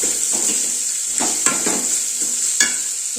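A tempering of dal, green chillies, mustard seeds and onion sizzles in hot oil, a steady close crackling hiss broken by several scraping strokes of a stirring spoon.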